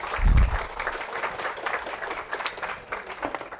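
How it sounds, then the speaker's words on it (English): Audience applause at an ICPC summer school lecture, a mid-level patter of clapping with a louder burst at the start, continuing steadily throughout without speech. "Give him a cheer, and let's move on."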